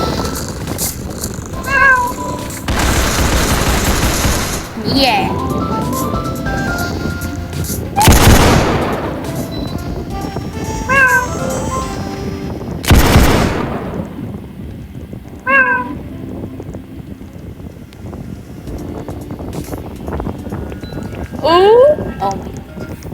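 Cats meowing repeatedly in a video game, short cries scattered among loud bursts of gunfire and booms, with a person talking and exclaiming over the action.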